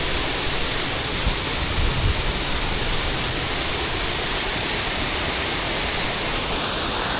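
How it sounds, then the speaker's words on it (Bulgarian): Bunovo waterfall, about 5–6 metres high, roars with a constant broadband rush of falling water, steady and close throughout with no voices. "Буновския водопад."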